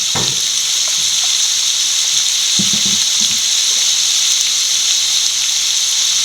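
Hot pan hisses loudly and steadily as vinegar goes in for beetroot pickle, a constant bright sizzle with a few soft liquid splashes and stirring clinks underneath, no voices.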